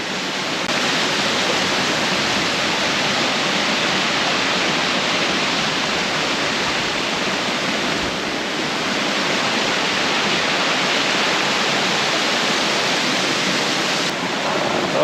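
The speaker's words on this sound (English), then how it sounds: "Hope you can hear me over the noise of the waterfalls" Waterfalls at Galvins Gorge roar in a loud, constant rush of falling water that stays unbroken and even throughout, with no other sounds standing out.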